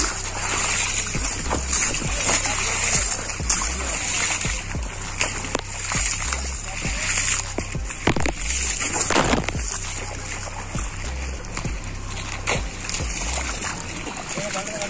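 Muddy rainwater splashing and sloshing as people play football in the rain, steady and near with sharper splatters throughout, voices talking over it.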